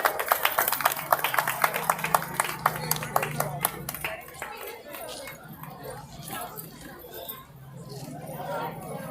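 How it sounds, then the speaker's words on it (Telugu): Audience clapping at an award felicitation ceremony, bursts of many hands applauding loudly at first, then fading into crowd chatter and murmuring voices. "అవకాశం ఉన్న వాళ్ళు గట్టిగా చప్పట్లు కొట్టాలి."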